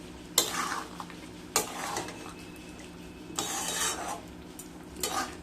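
Pointed gourd and prawn curry being stirred and mixed in a pan, with a few sharp spoon scrapes against the metal over a soft, steady sizzle, and no talking.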